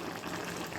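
Water boiling and bubbling softly in a pan of bottle gourd stir-fry, a low, steady simmer with no talk.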